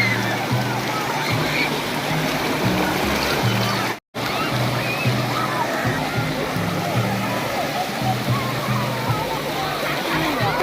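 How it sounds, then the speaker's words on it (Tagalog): Big ocean waves breaking on an island shore, a loud continuous wash and roar of surf filling the whole scene, with voices talking and calling over it throughout. "Ayan na yung waves!"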